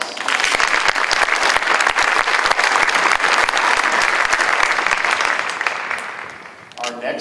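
Sustained audience applause at a county promenade event, a thick, even roar of many hands clapping that holds strong for several seconds before tapering off as a voice begins.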